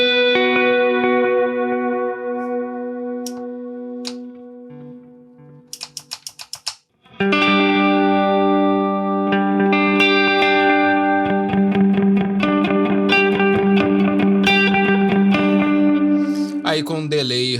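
Electric guitar played through a Boss Ampero One multi-effects unit with delay and reverb, sustained chords ringing with echoing tails, a brief gap of plucked notes, then full strummed chords continuing loud and alone.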